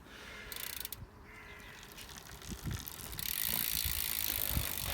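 Cannondale Scalpel XO mountain bike wheel spinning on its hub, a steady whirring with ratcheting freewheel clicks that shifts and winds toward a stop, close and moderately loud without talk.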